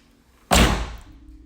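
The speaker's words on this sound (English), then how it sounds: "let me close the door real quick" A Honda S2000's door shuts with a single loud, solid slam, followed by a short decaying rumble and then quiet idle hum.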